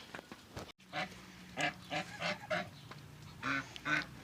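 Domestic geese kept on a household farm give a series of honks, about eight nasal calls in uneven rhythm, moderately close against a quiet yard background.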